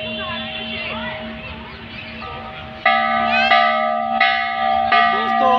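A temple bell is rung at a Meenakshi temple replica in a park, giving several bright metallic clangs that ring out and overlap, loud and close, over a murmur of outdoor background.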